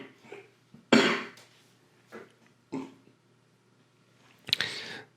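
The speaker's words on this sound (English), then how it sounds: "Sorry for that cough if you heard that," A single sharp, harsh cough bursts out close by, followed by a few softer throaty noises and another rough exhalation near the end.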